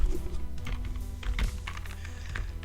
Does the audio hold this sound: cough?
no